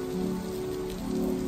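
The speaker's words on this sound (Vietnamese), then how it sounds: "trời mưa quá chừng rồi các bạn ơi" Steady rain falls on an autumn scenic spot in the northeastern United States, a dense, even hiss of drops on surfaces continuing throughout with no voices.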